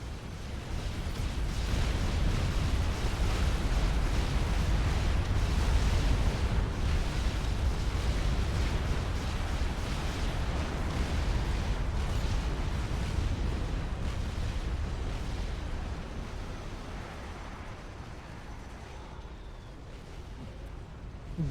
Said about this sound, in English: Also mobile artillery, which is firing onto the Fat Boy.